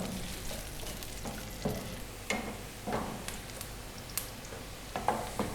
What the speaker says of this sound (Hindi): प्याज को हमने सौते कर लेना है